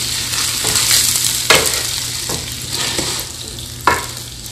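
Dried chillies and chilli peppers stir-fried in oil in a pan, giving a steady loud sizzle broken by several sharp scraping strokes of the spatula.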